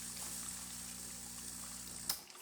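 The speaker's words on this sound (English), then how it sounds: "We're going to activate the pump for the group head." The group head pump of an Anza espresso machine runs with a faint, steady low hum and watery trickle, then cuts off abruptly with a small click near the end.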